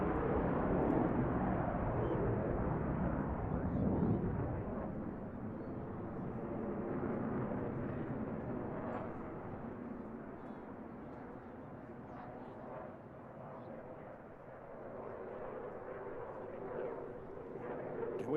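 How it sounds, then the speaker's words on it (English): Eurofighter Typhoon jet flying an airshow display at Eastbourne, a heavy roaring rumble that surges loudest early on, then fades and swells again as the jet passes at a distance. "With Nathan's display, you're going to be able to see the Typhoon's immense performance."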